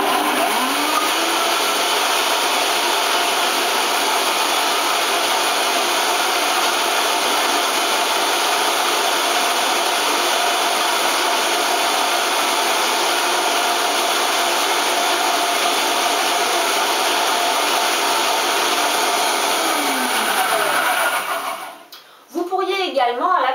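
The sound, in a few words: blender mixing coconut nectar syrup into jam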